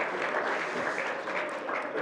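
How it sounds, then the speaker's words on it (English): A family congregation at a Christmas Eve church service claps for the children returning to their seats, a brief, dense burst of many hands, steady and fairly loud throughout. "Give them a round of applause."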